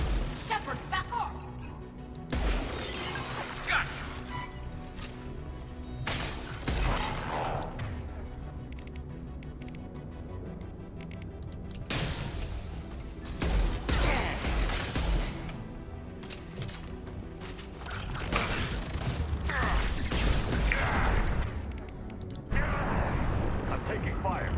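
Combat gunfire in the video game Mass Effect 2, with repeated bursts of shots and impacts rising and falling over a steady noisy background, and voices speaking at times.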